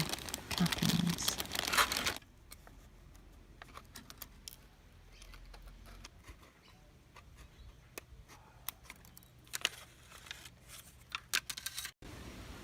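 Plastic is snipped and crinkled while a template is cut out for roof capping made from plastic bottle tiles, with soft cuts and rustling that give way to quieter handling and a few sharper clicks.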